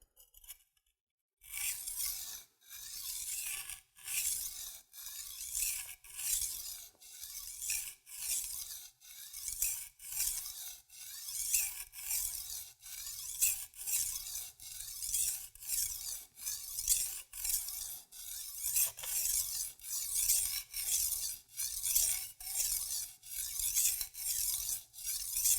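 A kitchen knife is drawn across a whetstone in light, even strokes, about eighteen rhythmic scraping passes in steady succession, close and clear with no talking.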